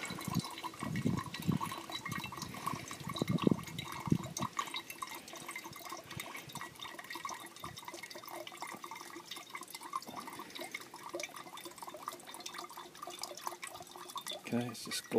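Water gravity-feeding through a clear plastic water trap, glugging and dripping at a low, faint level with a steady trickle; a voice speaks over the first few seconds.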